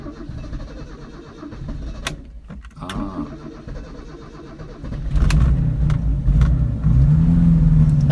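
An air-cooled 105-horsepower Honda 1300 coupe is started up close. Quiet cabin noises and a few clicks come first, then the engine catches and settles into a loud, steady idle.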